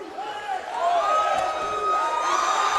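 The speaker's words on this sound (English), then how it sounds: "You can hear the crowd come to life." Crowd at a mixed martial arts fight cheering and roaring as the action heats up, swelling to a loud sustained din with shouts rising over it and a commentator talking throughout.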